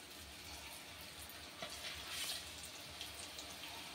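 Drumstick-leaf murukulu frying in a pan of hot oil give a steady, low sizzling hiss with a faint bubbling swell near the middle, close by and fairly quiet.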